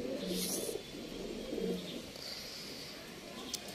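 Soft, low pigeon coos repeat a few times over faint background noise, with a light chirp near the end; no one speaks.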